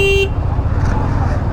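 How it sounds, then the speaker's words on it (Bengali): A motorbike horn gives a short honk at the start of a night ride, then the engine rumble and surrounding street traffic carry on close by. "হর্ন মারি"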